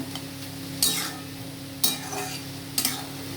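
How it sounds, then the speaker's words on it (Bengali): Vegetarian cabbage curry stirred in a frying pan, three sharp scraping strokes at roughly one-second intervals over a steady low sizzle, close and moderately loud, with no talking. "এইবার আমি শুধু এটাকে নাড়াবো"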